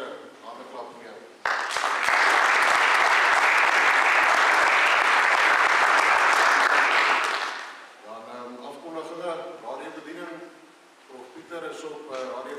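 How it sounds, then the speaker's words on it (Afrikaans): A church congregation applauds the mothers in a Sunday service, a burst of loud, sustained clapping of about six seconds that fades out, with a preacher speaking in Afrikaans before and after it. "Dan sê die moeders se hande klap vir jou."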